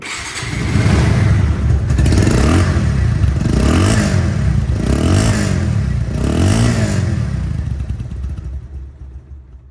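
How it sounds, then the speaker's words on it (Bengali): A second-hand Bajaj Pulsar ABS motorcycle engine idles and revs up and down in several rhythmic surges, loud and close, then settles toward the end with no talking. "ইঞ্জিন কোয়ালিটি সাউন্ডটা দেখেন একটু"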